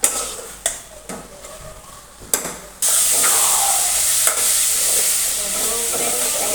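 Garlic and spice chutney frying in oil while being stirred: several sharp clanks of a spoon against the pan, then a loud, steady sizzle and hiss.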